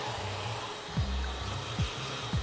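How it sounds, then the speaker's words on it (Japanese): A hair dryer blows steadily on a man's short hair in a hair salon, a continuous close airy roar with a few brief low thumps as it moves. "次にドライヤーをかけてきます。"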